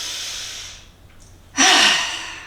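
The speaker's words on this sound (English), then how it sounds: "breathing in through the nose" A deep breath drawn in through the nose during a guided mobility warm-up, a soft airy rush that fades, then a louder, fuller inhale rising sharply and holding steady, heard alone without talk.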